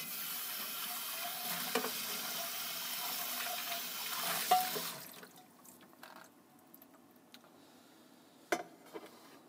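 Salad oil sizzles loudly in a pot while cooking chikuzenni, a dense steady hiss for about five seconds that drops away to quiet kitchen clatter and a few sharp knocks.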